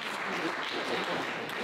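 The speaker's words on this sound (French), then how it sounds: "on l'applaudit" A crowd at a political party youth debate applauds a speaker being introduced, with steady, dense clapping filling the whole short stretch at an even level.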